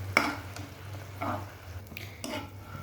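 Vermicelli is stirred through thick sugar syrup in a pan, giving a few soft, sticky scraping strokes and a spoon knock close up over a low steady hum.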